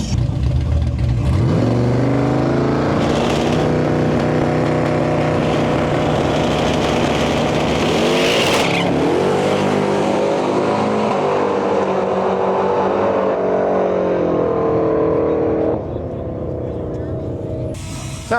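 A twin-turbo LS-powered four-door Chevy Nova launches and pulls hard at a drag strip, a loud sustained engine roar with rising revs, nearby, with people talking over it.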